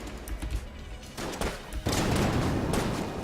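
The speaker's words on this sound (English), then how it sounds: "it was a big-ass explosion that left a bunch of toxin behind" A loud explosion in the Enter the Gungeon video game, a sharp blast swelling into a thick, sustained roar of gunfire-like crackle that stays dense to the end.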